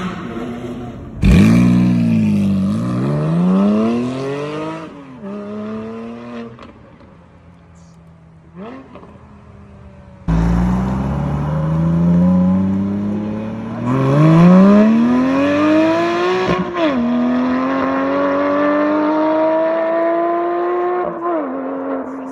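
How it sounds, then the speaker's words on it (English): A car exhaust with an Akrapovic over-axle pipe revs loudly in repeated bursts, rising and falling. It dips into a quieter idle midway before more long, climbing revs, close and alone. "I'll insert some exhaust clips right now."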